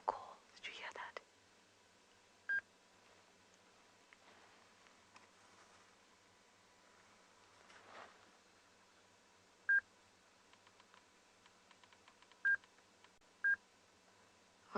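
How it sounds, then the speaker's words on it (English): Several short electronic beeps from a safari game drive radio, separate and fairly clear over a quiet outdoor background with faint rustling and soft whispered voices. "Sorry for the beeping, everyone."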